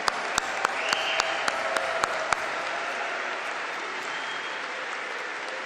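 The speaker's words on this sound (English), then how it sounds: "Please let us applaud one more time the outstanding accomplishments of these doctoral graduates." Applause for doctoral graduates at a college commencement, a steady wash of many hands clapping in a large hall, with a few sharp louder claps early on.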